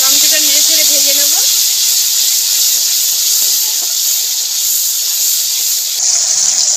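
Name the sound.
tomato paste frying in a pan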